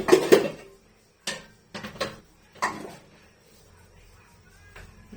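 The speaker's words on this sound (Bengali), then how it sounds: "কড়াই দিয়ে দিয়েছি" A wok set down on a stove in a home kitchen, a sharp metallic clank followed by a few lighter knocks and clatters, close and alone with quiet pauses between.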